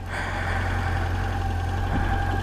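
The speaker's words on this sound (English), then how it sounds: "Whoa, it started. Okay, so as you can see, my bike started." A motorcycle engine idles steadily right after being push-started, a close, continuous low rumble with an even running tone and no talk over it.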